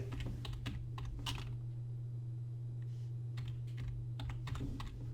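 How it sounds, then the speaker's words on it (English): Someone types on a computer keyboard in quick clusters of clicky keystrokes with short pauses between them, close and fairly quiet over a steady low hum. "Yep, I am typing."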